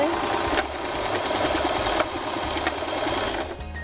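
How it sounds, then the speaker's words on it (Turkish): A sewing machine stitches the shoulder seam of a denim vest made from old jeans, a close, continuous rapid mechanical whirr with small clicks, running alone until it slows near the end. "Diğer omuzumuzu da sağlam dikiş yapalım"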